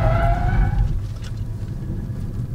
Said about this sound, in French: on n'est pas obligé d'aller à 90 km/h pour faire un 3-600